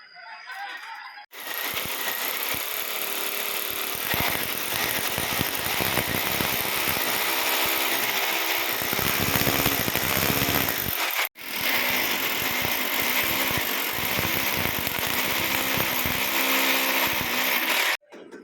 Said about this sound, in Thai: อันนี้เจาะหาตำแหน่งก่อนนะครับ เพื่อจะทำการเจาะยึดนะครับ